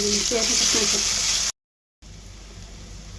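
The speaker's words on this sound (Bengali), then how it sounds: "রসুনগুলো 2 মিনিট বাইচা নিচ্ছি" Chopped garlic fries in a pan with a bright continuous sizzle and some faint stirring, then a brief cut to silence before a quieter, softer hiss resumes.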